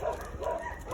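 Dogs barking and whimpering at a crowded shelter holding over 200 caged dogs, a steady mix of overlapping yips and barks filling one second at moderate level.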